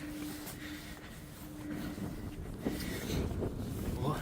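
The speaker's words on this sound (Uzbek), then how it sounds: "O, kemani ham ovozi eshitilyapti." On a windy seashore by a lighthouse, a ship's low steady hum carries in the distance, mostly buried under loud, continuous wind buffeting the microphone, with brief gusty surges near the end.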